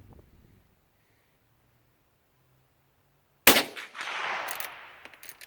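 After several seconds of near silence, a used Ithaca Saddle Gun .22 Magnum rifle cracks once, sharp and close outdoors, followed by a ringing, rumbling tail and a few faint later clicks.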